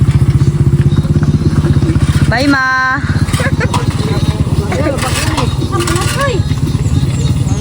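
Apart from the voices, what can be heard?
motorcycle engine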